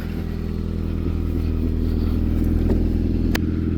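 Honda CRX Si barn-find car with a steady mid-pitched engine drone while driving, constant and close with a few light clatters, no talking.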